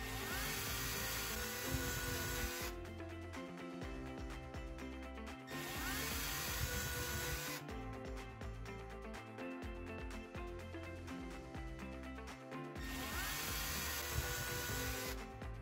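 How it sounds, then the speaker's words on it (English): A power drill with a Phillips bit whirs in repeated bursts as screws fix a security camera in place, with steady high-pitched motor whine broken by short pauses, close and fairly loud. "using a drill with a Phillips drill bit, screw the camera in place"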